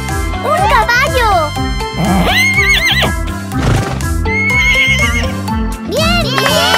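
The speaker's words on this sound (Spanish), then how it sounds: "¡Un caballo!" A horse neighs with a rising, wavering whinny, repeated several times amid a cartoon soundtrack with music and children's voices chattering throughout.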